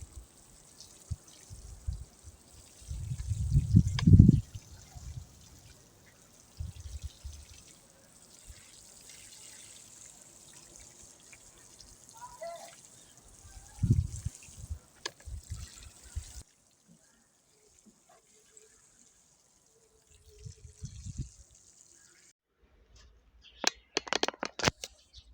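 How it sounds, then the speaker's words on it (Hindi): Water poured by hand over a garden bed of young spinach seedlings in bright sun, coming in a few separate splashing bursts with quiet gaps between them. "अब हम इसको अभी साथ ही इसके पानी लगा देंगे।"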